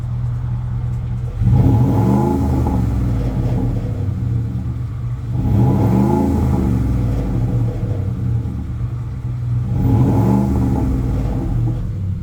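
A 2017 Ford F-150 pickup with 121k miles revs to about 3,000 rpm three times, each rise swelling to a loud roar before dropping back to a steady low idle rumble.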